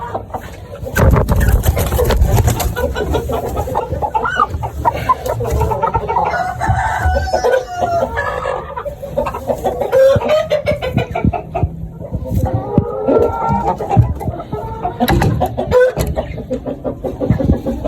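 Hens cluck and a rooster crows in a rooftop poultry setup holding Ayam Cemani, desi and Java birds, with loud, continuous overlapping calls nearby throughout.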